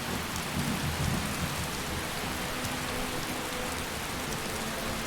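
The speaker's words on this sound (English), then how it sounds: "This rain is a little much though." Steady, dense rain pours in the video game Skyrim, an even hiss that fills the whole clip with a low rumble underneath and no voices.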